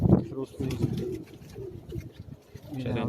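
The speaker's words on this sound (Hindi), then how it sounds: "ये आ गए जी फिरोजपुरी, मेरे फेवरेट कबूतर" Firozpuri pigeons cooing on a rooftop in Karachi, low throaty coos in short bursts under a voice talking nearby.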